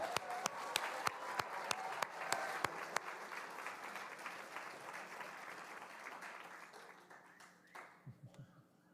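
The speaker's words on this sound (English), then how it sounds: "Give him a round of applause." An audience at an elementary school awards ceremony claps, with a few sharp near claps at first, then a softer sustained wash of applause that thins out, ending in a few scattered claps.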